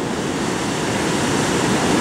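Ocean surf at a surf spot with waist-to-chest-high waves breaking in scattered spots from a mixed swell, heard as a steady, loud, broadband wash of breaking water and foam that continues without pause and with no voices.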